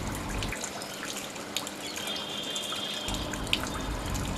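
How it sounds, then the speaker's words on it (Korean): Water trickles steadily from a fountain in the courtyard of Umaid Bhawan Palace in Jodhpur, a continuous soft wash with a few faint drips and distant chirps over it. "졸졸졸 흐르는 분수대의 물소리를 들으며"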